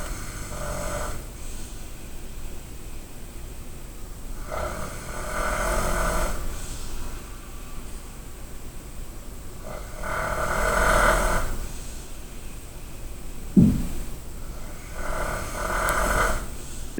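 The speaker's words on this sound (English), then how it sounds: "he was an extremely loud snorer" Loud, close snoring from a man in a hostel dorm, heard as about five long, rasping breaths at a slow, steady rhythm over a low room hum.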